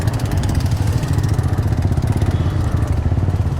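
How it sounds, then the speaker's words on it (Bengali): A pack of many motorcycles ridden together, a steady close engine drone with a rapid pulsing throb, continuous and loud with no voices. "দেখেন বাইকারের অভাব নাই, হিউজ বাইক আজকে সামনে পিছনে"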